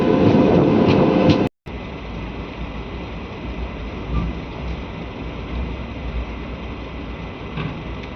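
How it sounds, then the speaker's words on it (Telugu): Palnadu SF Express, a Guntur to Vikarabad superfast train, runs with a steady, loud rumble of wheels and carriage noise throughout, broken by one brief dropout near the start. "సికింద్రాబాద్కి మన ట్రైన్ చేరుకుంది 2 నిమిషాల ఆలస్యంగా"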